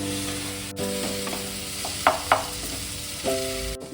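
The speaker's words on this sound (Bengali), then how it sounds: "সব মশলা দিয়ে ভালোভাবে আলুটাকে ভেজে নিতে।" Potatoes fry with spices and Kashmiri chilli powder in a pan for ghugni, a soft sizzle under a few sharp scrapes and knocks of a spatula, close by, with no voices.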